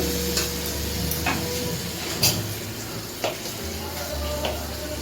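Tomato going into a pan of pomfret dopeyaja frying over medium gas, with a steady sizzle and a few sharp clinks and scrapes of stirring near the pan.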